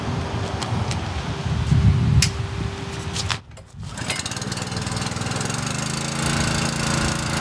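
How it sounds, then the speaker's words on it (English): A Te Pari sheep jetter's motor running steadily, a close, loud mechanical drone with a rattling edge that cuts out briefly partway through and then comes back as a steady hum with rising tones. "We're now going to start the motor and activate the sensors and show you how it works."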